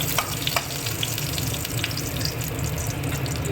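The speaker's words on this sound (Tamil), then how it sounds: "எண்ணெய் விட்டு கடுகு போட்டு கடலைப்பருப்பு போட்டு பச்சை மிளகாய் கருவேப்பிலை போட்டிருக்கேன்" Mustard seeds, chana dal, green chilli and curry leaves frying in hot oil for carrot poriyal, a loud, steady, close sizzle with small crackles running throughout and no speech.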